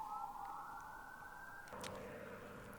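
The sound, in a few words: emergency vehicle sirens in the distance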